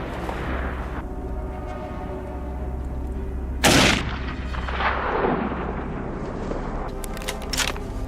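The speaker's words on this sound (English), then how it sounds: "Gunfire echoed through the hills," A single loud rifle shot cracks outdoors at night and rolls away in a long echo through the hills, over a steady low background hum, with a few fainter sharp sounds afterward.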